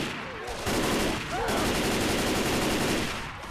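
Rapid bursts of gunfire from the zombie shooter Left 4 Dead 2, a dense, loud fusillade of overlapping shots sustained for a few seconds with brief shouted voices underneath.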